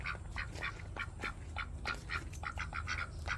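Ducks on a small farm with chickens quack repeatedly in short, nasal calls from close by, several birds overlapping over a low, steady background rumble.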